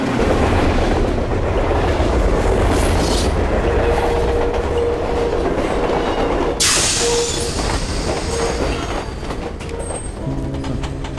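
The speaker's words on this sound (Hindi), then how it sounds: "चलो ट्रेन आ गई, आ जाओ।" A train pulling into a station rumbles loud and close, with a continuous rolling roar, clacking wheels and a rising metallic squeal toward the end, and no voices over it.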